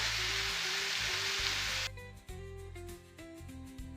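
Garlic fries in a pot for one-pot Indian cashew chicken. A loud, steady sizzle fills the first two seconds, then it drops to a quieter frying hiss with light clatter and soft tonal hum.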